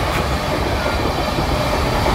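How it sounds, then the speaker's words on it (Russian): A Lastochka electric commuter train rushes past close by near the Lazarevskoye beach in Sochi, a loud continuous roar of rolling wagons with no talk. "Электричка всем сигналит. Вот она."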